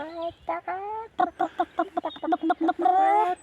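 A person's voice imitates a hen's clucking, with a string of rhythmic, nasal clucks ending in a drawn-out squawk, close and loud.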